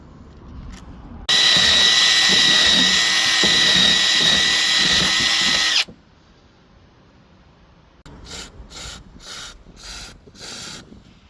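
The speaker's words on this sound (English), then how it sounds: "I've literally got this drill with a wire brush on the end." A drill fitted with a wire brush scours a brake caliper slider pin bore on a Ford Fiesta ST150, giving a loud, harsh scrubbing whir for several seconds. After a pause come a few short grinding bursts, close by.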